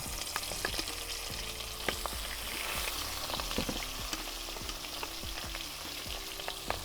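Hilsa fish pieces fry in hot oil in a kadai, giving a dense, continuous crackling sizzle with scattered pops and faint scrapes, close and steady, with no one talking.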